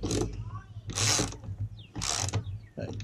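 Three bursts of a ratchet clicking as fuel filter bolts are snugged up on a 2018 Grizzly 700 ATV, close and crisp with short pauses between each set of strokes.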